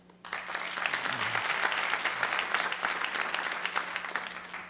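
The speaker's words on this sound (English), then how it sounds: "So by applause, how many parents do we have here?" Comedy club audience of parents applauding on cue, a sudden burst of dense clapping that starts sharply after a brief pause and holds at a steady level, with a low hum underneath.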